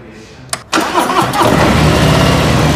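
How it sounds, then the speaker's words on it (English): A Harley-Davidson motorcycle engine cranks briefly and then fires up, settling into a loud, steady, throbbing idle that carries on to the end. "Music to my ears when you hear a Harley engine start up."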